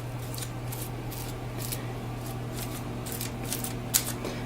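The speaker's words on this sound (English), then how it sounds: "The noise that you're hearing is actually more the foil" Aluminum foil crinkles and rustles in short, repeated bursts as kale chips are moved around on a foil-lined baking tray, faint and close over a steady low hum.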